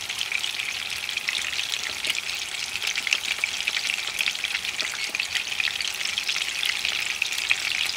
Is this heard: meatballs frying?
yes